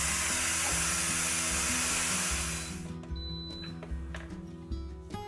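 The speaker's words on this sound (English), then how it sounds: "Sorry about the steam. That is one of the hazards of pressure releasing with the Instant Pot." Steam hisses loudly and steadily from an Instant Pot electric pressure cooker during a quick pressure release, then cuts off, leaving faint clicks and a low hum.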